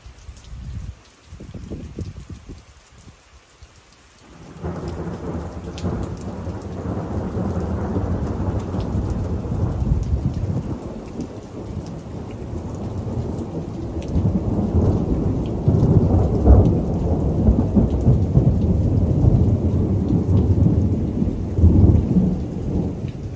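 A spring thunderstorm rolls over a fifth wheel camper, starting with a few quiet moments before heavy rain and deep rumbling thunder rise. The loud, steady downpour and rolling thunder continue to the end, with no voices.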